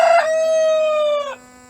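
A rooster crows once, close and loud: a single sustained cock-a-doodle-doo with a ragged opening burst, a long steady middle and a sharp drop-off at the end. There is no talking.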